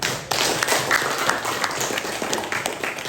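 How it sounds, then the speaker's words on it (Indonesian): Brief burst of applause from a classroom group, dense clapping starting abruptly and holding steady at close range for a few seconds. "Silakan berikan aplaus untuk kelompok 3"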